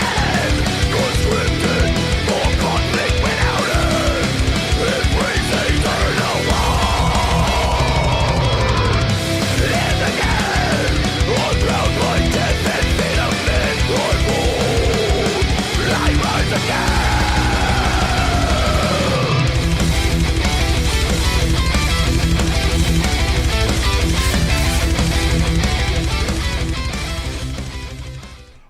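A melodic death metal track plays continuously and loud: dense distorted guitars and pounding drums form a wall of sound, with melodic lead lines weaving through and a brief dip in the low end midway.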